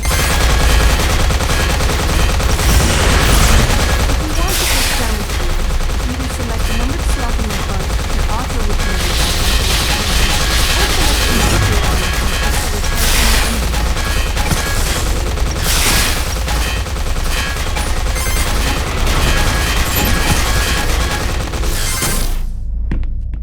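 Robot enemies firing weapons in the sci-fi video game Consortium, loud sustained bursts of automatic gunfire with sharp cracks, impacts and shattering debris, dense and close, with brief voices mixed in.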